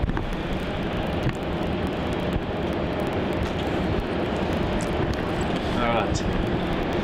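Jet aircraft taking off at Melbourne Airport, a steady broadband engine roar holding loud and constant throughout while a person speaks briefly over it.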